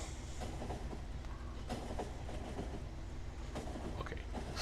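Train passing in a video game with new track being laid, a steady, close rumble of rolling rail cars with faint clickety-clack and occasional squeal, continuous and alone without voices.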